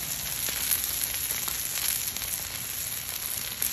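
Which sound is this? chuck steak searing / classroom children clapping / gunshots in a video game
chuck steak searing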